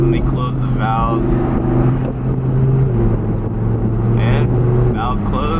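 Audi R8 V10 with a Fab Speed exhaust, its engine droning and revving in shifting pitch, loud and close, with someone talking over it.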